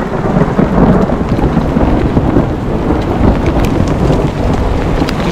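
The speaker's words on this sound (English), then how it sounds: "Lightning going off everywhere." Loud heavy rain pours in a thunderstorm with hail and lightning, and thunder rumbles low and steadily under the dense rain hiss, with no talking.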